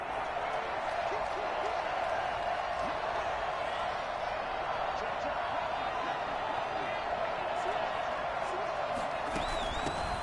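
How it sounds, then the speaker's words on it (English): Stadium crowd noise from a Madden football video game ahead of a big third down, a dense continuous roar of cheering filling the whole stretch, with a commentator talking over it. "The crowd getting into it as we come up on a big 3rd down."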